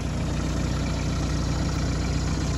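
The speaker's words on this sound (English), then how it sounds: "you leave the tractor at idle" A tractor idles while driving a three-point PTO post hole digger, a steady low engine chug with a mechanical rattle, close and constant for a few seconds with no voices.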